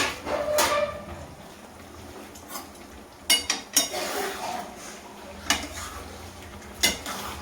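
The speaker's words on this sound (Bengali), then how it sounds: "ভালো করে মিশিয়ে ওটাকে কষা চলছে।" Ground coriander, cumin and turmeric stir-fried in a pan, with repeated sharp metallic clanks of a spatula against the pan over a low steady sizzle, several distinct scrapes spaced irregularly, close and moderately loud.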